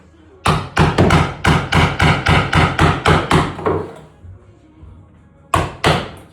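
A hammer taps a chisel to work a nail loose from wood, ringing out as a quick run of about a dozen evenly spaced sharp knocks, then a pause and two more hits, close and loud.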